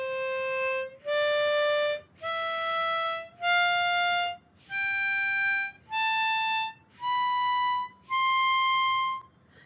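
Harmonica notes blown one at a time, beginning on hole 4, eight sustained steady tones in a slow, evenly spaced sequence with short gaps between them, each rising slightly in pitch, clear and alone.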